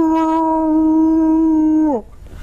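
A performer's voice imitates a dog howling, one long sustained wavering howl lasting about two seconds, loud and close, then breaking off abruptly.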